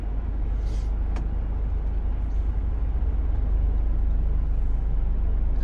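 A car reversing slowly, heard as a steady, loud engine drone with rumbling road noise throughout and a brief hiss near the start.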